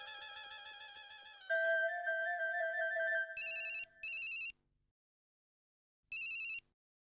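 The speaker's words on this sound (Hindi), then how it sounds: "सुंदर को फोन लगा।" A melodic phone ringtone plays loudly, then breaks into short bright repeated bursts of ringing separated by pauses.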